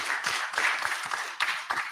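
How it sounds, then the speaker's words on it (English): An audience claps for the panelists at the close of a discussion on widening inequality, a dense wash of applause from many hands that swells and dips throughout. "Let's clap for the panelists."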